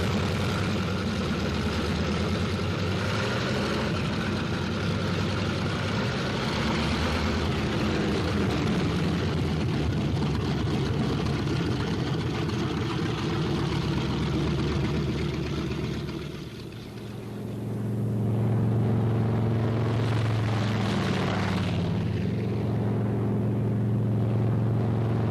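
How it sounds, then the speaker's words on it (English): World War II P-47 Thunderbolt fighter planes warm up their engines on an airfield, a dense, loud propeller-engine roar and rumble that dips briefly midway, then swells again. "On the field, planes warm up. It's takeoff time for the Thunderbolts."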